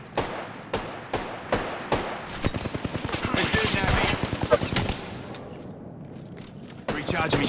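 Rapid automatic gunfire in the Apex Legends video game, with isolated shots at first building into dense sustained bursts, then tapering to scattered shots, loud and close, with speech mixed in.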